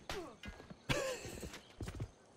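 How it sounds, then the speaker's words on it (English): Horse in Civilization V giving a sharp whinny amid quick clopping hoofbeats, a short, close, loud burst of game sound effects with no talk. "Oh, that poor horse."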